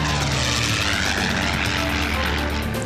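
A propeller airplane engine drones steadily and loudly from start to finish, smooth and continuous, with a dense broadband roar and steady low tones and no talk over it.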